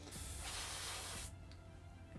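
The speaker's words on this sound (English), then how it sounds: "this cheapy little airbrush is really kind of doing me proud" Cheap little airbrush spraying paint onto miniature figures, a steady hissing burst of air lasting over a second and then cutting off, leaving faint room noise.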